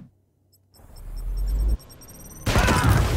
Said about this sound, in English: It's good to have grenades back.